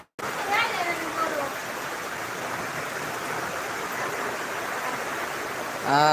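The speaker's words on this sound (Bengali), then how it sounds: "অনেক দিন পর বৃষ্টি হচ্ছে" Steady rain falls after a long dry spell, a dense, even patter that continues unbroken, with a brief voice-like call rising over it near the start.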